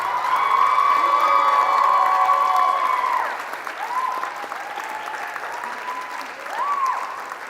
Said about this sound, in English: give them one more huge round of applause as they come up